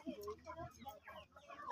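Chickens clucking close by in short, choppy bursts across a couple of seconds, fairly quiet overall, with a person's voice mixed in among the clucks.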